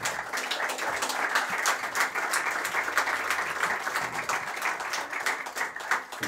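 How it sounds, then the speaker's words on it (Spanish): A live concert audience claps continuously and evenly at a moderate distance, a dense wash of applause that holds steady throughout with no voices on top. "Un aplauso para ellos."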